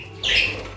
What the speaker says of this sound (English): Budgies are very active and chirp a lot.